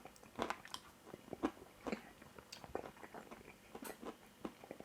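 Close, quiet bites and chewing on crispy chilli chicken, with a string of irregular sharp crunches and softer mastication sounds spaced over a few seconds.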